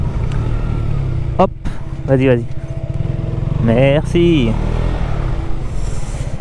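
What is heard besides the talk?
KTM Duke 125 2019 motorcycle engine riding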